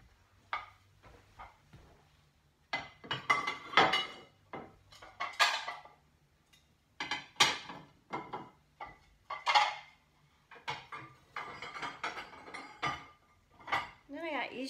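Ceramic plates and dishes clink and clatter as they are set into a china cabinet, a series of close, sharp knocks and rattles in separate bursts with quiet gaps between.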